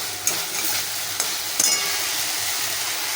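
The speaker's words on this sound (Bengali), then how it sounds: "এবার আমি পরিমাণ মতো এর মধ্যে জল দিয়ে দেব।" Water poured into a pot of simmering Bengali potato curry with sautéed spices and a little sugar, a steady hissing wash of liquid with a few soft clinks and stirring knocks, close by and without talk.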